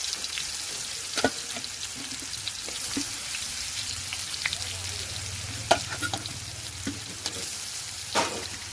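Plantain pieces fry in white cooking oil in a pan, giving a steady close sizzle with scattered clicks and taps from stirring throughout.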